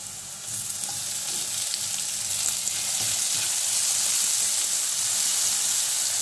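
Onion, garlic, chili and freshly added tomato sizzle in cooking oil for a baby spinach and canned sardine dish, an even, close hiss that holds steady and grows slightly louder throughout.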